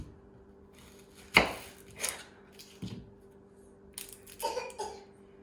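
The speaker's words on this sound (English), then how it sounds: "cut all the onions into rectangle or like 1/2-inch squares" Knife cutting onions into half-inch squares on a cutting board, a handful of sharp, separate chops with uneven gaps between them over quiet kitchen background.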